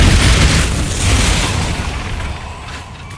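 A Bombarda spell exploding in the Hogwarts Legacy video game: a single loud, close boom bursts at once and then rumbles and fades over a few seconds, with no voices.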